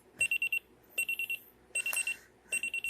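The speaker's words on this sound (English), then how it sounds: "this alarm is actually going to get louder and louder" A Sony alarm clock beeps in rapid bursts of about four or five sharp, high tones, each burst repeating roughly every three quarters of a second, clear and close.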